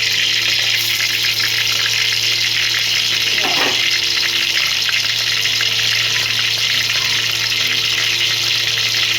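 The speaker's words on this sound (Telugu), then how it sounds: "ఆయిల్ అయితే వేడెక్కిందండి. పోపు గింజలు వేసేస్తాం." Tempering seeds hit hot oil in a pot on the stove, giving a loud, continuous sizzling hiss with a brief crackling burst partway through.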